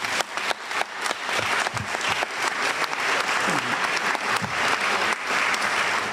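An audience at the opening of the 26th International Contemporary Art Symposium of Baie-Saint-Paul breaks into loud, sustained applause, a dense wash of clapping filling the room throughout.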